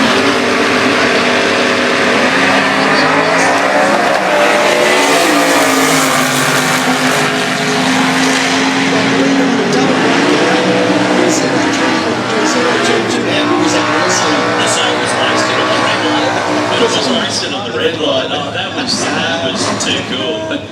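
A modified Commodore on a drag racing run at a winternationals event, a loud sustained engine roar with shifting pitch as it launches and pulls hard, continuing for about twenty seconds with crackling bursts near the end.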